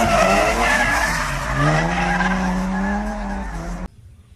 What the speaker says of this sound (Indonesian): Ini adalah mobil balap.